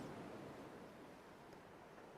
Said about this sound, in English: close enough to hear the waves